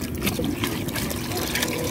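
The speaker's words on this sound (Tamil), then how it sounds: "மூணு டம்ளர் தண்ணி நான் ஊற்றிருக்கேன் அதை வந்து இதில் இப்போ ஊற்றிக்கலாம்" Water pours steadily from a tumbler into a pot of mutton biryani rice and gravy on a wood stove, a continuous close splashing trickle without pause.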